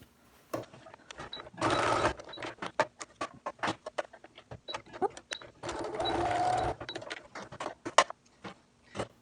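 A sewing machine stitches a fitted fabric face mask, running in two sustained rapid whirring bursts separated by scattered clicks and handling taps, close and clear with no speech.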